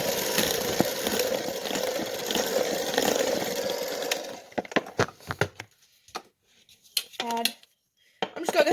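Electric blender whirring steadily as it mixes cake pop batter, a close continuous motor drone for about four seconds, then stopping, followed by scattered clinks and brief voice sounds.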